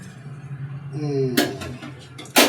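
A metal ladle is picked up and knocked against a tawa pan while chilli fish is being cooked, giving two sharp, close clanks a second apart over low background hum, after a brief voice.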